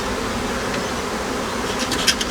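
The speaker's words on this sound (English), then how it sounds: "give it a little puff of smoke, and then the bees will move away from where you want to work" Honey bees buzz steadily and densely around a Flow Hive as it is opened and worked during installation on starter strips, a close, constant drone with no talk.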